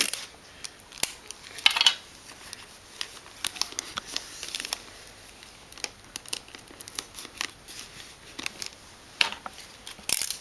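Adhesive tape pulled and pressed onto folded wrapping paper, with repeated short crackling rips and crinkles scattered through the clip, close and fairly quiet, with no talking.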